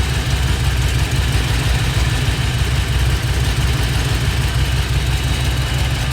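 A non-stock Ford 5.0 302 V8, freshly fitted with a new distributor and timing set at 16, idles loud and close in a steady, unbroken rumble with no voices.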